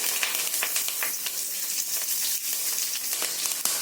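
Spices and garlic frying in oil on a low flame, with a continuous dense crackling sizzle that is close and fairly loud, broken by small spatter pops and no talking.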